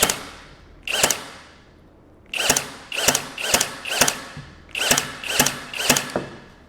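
Flex 24V cordless nailer firing nails, nine sharp, close mechanical bangs in quick groups, each followed by a brief whirring ramp, with short pauses between bursts.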